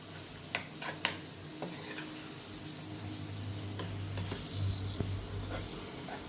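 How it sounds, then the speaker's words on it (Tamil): Chicken mixture seasoned with pepper and salt is stirred in a pan, giving scraping and clattering stir strokes over a steady low sizzle, a few sharper knocks early on and no talk. "ஒருக்க எல்லாத்தையும் நல்லா மிக்ஸ் பண்ணிக்கோங்க"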